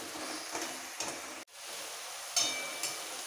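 Onion and spices with turmeric powder sautéing in a pan for mustard pomfret curry, a soft steady sizzle with occasional stirring scrapes and one sharp clink, close and quiet, no talk.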